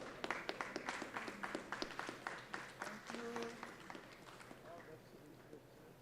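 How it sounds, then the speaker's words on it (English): An audience at a World Hypertension Day 2025 patient event applauds the doctors on stage: quick, steady clapping that fades over several seconds, faint and distant, mixed with voices. "A big round of applause to them."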